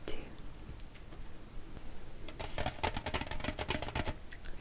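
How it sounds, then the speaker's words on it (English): Scissors snip and crinkle through bubble wrap packaging around cans of Iron Brew, a close, soft run of crackly plastic clicks and rustles that grows busier toward the end, with no talking. "I'll need to cut out this bubble wrap too"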